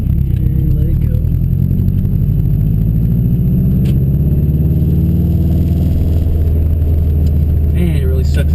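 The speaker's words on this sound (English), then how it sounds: "Second gear, we're rolling, and let it go." A 2007 Subaru STI with a manual gearbox rolls along in second gear, its engine a steady low drone with road rumble throughout, loud and close from inside the cabin.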